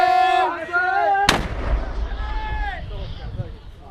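Frontline mortar fire in an Iraq war VR game, one sharp heavy blast that cuts in after a tonal passage and then rumbles away, loud and close, with narration over the scene.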